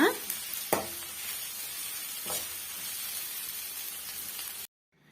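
Egg puff masala filling sautéing in a pan, a steady broadband sizzle with a few sharp stirring scrapes near the start and middle, fairly close, then cutting off abruptly before the end; no talking.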